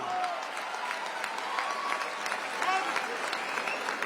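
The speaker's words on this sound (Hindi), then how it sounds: "तालियां एक बार जोरदार बजाइएगा।" Audience applause at a Hindi poetry gathering, a steady moderate patter of many hands, slightly distant, with faint voices underneath.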